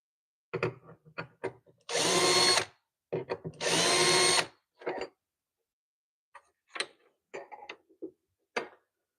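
A power drill whines loudly in two steady bursts about two seconds each, surrounded by tapping and clattering handling noises on a construction job.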